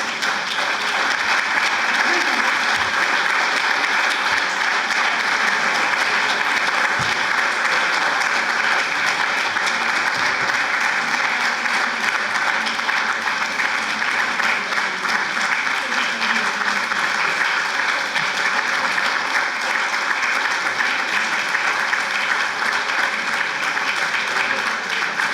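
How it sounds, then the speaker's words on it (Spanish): Audience applause after a lecture on Don Quixote, dense sustained clapping from a large crowd filling the room, steady and loud throughout with no break. "No aplaudáis tanto, sed serios, por favor"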